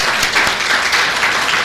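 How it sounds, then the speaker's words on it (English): A brief, loud burst of dense audience clapping for a presenter at a neurodivergence talk, steady and close for under two seconds. "let's give Megan a round of applause for even coming up here."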